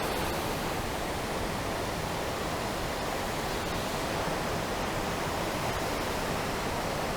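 Steady, dense roar of Beezley waterfall on the Ingleton Waterfalls Trail, loud and close, a constant broadband rush of falling water with no voices over it.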